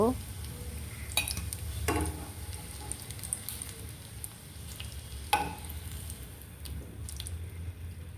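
Banana peel fritters frying in hot oil, a steady sizzle with occasional stirring clinks and scrapes of utensils, close and moderately loud throughout.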